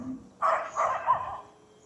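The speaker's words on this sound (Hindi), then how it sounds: "देखो एक और आ गया डॉगी। भौंक ही रहे" A dog barks in a short burst of about three quick woofs at moderate distance, fairly faint in an open outdoor morning setting, with no talking over it.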